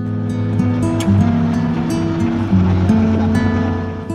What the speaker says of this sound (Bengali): জেলখানা ঘাট থেকে ছোট নৌকা করে যেতে হবে শিপে।